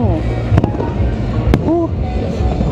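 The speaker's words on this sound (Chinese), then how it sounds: "还能看到烟花吗？" New Year's Eve fireworks over San Francisco, with a couple of sharp, distant bangs cutting through a steady crowd murmur as people talk close by.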